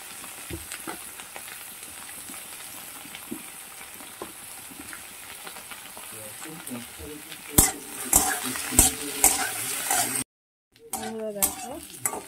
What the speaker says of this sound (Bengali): দেখো আলুটা অনেকটা ভাজা হয়ে গেছে